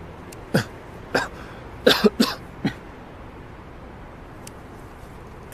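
Several short, sharp coughs come in an irregular run of bursts, a cluster of three or four close together in the middle, with one faint cough near the end. The room is otherwise quiet and nobody speaks.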